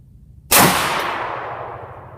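An LWRC Six8 rifle with a 12.7 inch barrel and piston-driven system fires a single 140 grain Berger round, one loud, sharp report followed by a long, fading echo.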